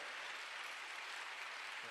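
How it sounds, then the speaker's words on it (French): A church congregation applauds and cheers at a university gathering, a broad, continuous wash of clapping and acclamation filling the space for a couple of seconds, fairly distant and diffuse. "Et vous pouvez ajouter des acclamations au Seigneur."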